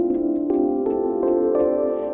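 A Logic Pro X Alchemy synth patch plays sustained tones with audible clicks at each note change, four or five steady pitch steps over about two seconds, moderately loud with no voices.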